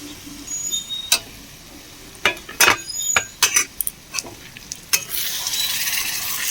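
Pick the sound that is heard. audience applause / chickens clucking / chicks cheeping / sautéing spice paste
sautéing spice paste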